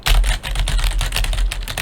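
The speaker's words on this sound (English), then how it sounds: "a quick short test of me typing on the keyboard" Rapid, loud clicking of keys on a computer keyboard, close up and continuous with an uneven rhythm, picked up by a budget microphone.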